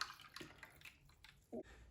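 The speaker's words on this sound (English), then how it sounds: "Just pour this on in here." A drink is poured into a salted rim cup for a Bloody Mary-style cocktail, giving a faint, uneven liquid splash and trickle over a quiet background, with a short louder gurgle near the end.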